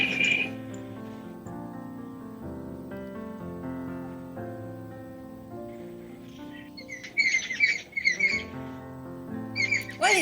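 Birds call in quick, high chirps and squawks, clustered near the end and rising over a soft, sustained musical drone.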